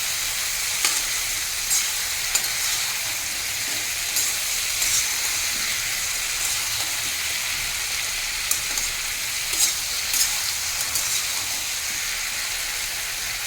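Bottle gourd fries on a high flame, giving a continuous soft sizzle and hiss with scattered small pops and crackles.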